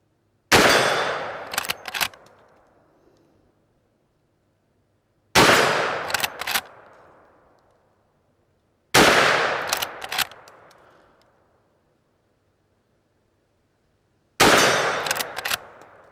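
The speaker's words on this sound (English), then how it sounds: "So I'm going to shoot 4 of these." A Winchester 94 lever-action rifle fires .357 Magnum Remington 125-grain jacketed soft-point factory loads, four loud sharp shots spaced a few seconds apart, each followed by a quick clatter of the lever and a fading echo.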